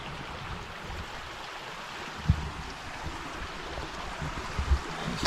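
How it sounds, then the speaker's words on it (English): A woodland stream, a tributary of the River Lid in Asheltor Woods in October, rushes in a steady, close broadband wash with a few brief bumps and no voices. "this is a tributary bit of the River Lid."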